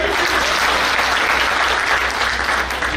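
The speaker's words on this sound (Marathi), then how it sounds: "एकदा टाळ्या वाजव." An audience at a book launch event claps in sustained, dense applause that stays loud and even from start to finish, with no talking over it.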